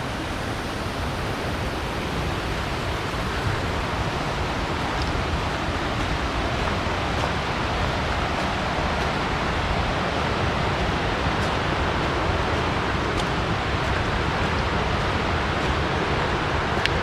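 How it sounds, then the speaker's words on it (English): Water falling at Burgess Falls, Tennessee, down toward the river, a steady dense roar of rushing water that stays even and unbroken from start to finish. "Another spot where we have water coming from above and making its way down to the river."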